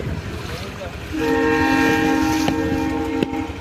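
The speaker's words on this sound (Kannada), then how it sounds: "ಗುಡ್ಸ್ ಹೊಂಟೈತೆ ನೋಡ್ರಿ ಇಲ್ಲಿ ಟ್ರೈನ್" A goods train passes close by, its horn sounding as a steady, loud harmonic tone for more than two seconds over the rolling rumble of the cars.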